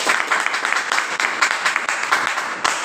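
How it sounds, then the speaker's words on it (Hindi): Crowd applause fills a Vestige business meeting in Ghazipur, Uttar Pradesh, a steady dense patter of many hands clapping close by for nearly three seconds with no talking over it. "हम चाहते हैं जोरदार ताली हो जाए"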